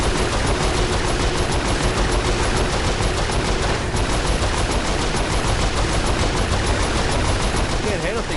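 Rapid gunfire rattles nonstop in Saints Row IV, a dense, loud barrage of automatic shots that runs throughout, with voices heard under the shooting.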